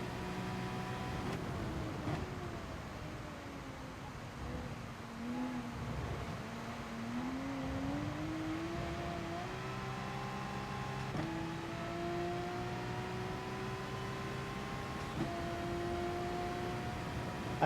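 A race car engine in Gran Turismo Sport drones and climbs through gear changes, a steady sustained whine that rises, drops and rises again, moderately quiet with no talk.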